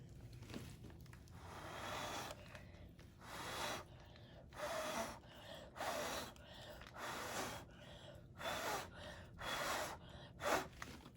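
Short puffs of breath blown repeatedly across fluid art paint poured onto a 6x6 ceramic tile, each burst a soft close airy rush separated by brief pauses, with no talking.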